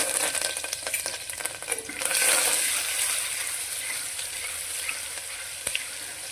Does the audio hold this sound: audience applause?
no